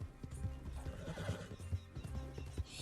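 A horse in a video game whinnies and snorts repeatedly at close range, with rhythmic clip-clop hoofbeats running underneath the calls.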